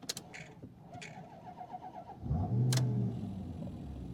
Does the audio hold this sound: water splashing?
no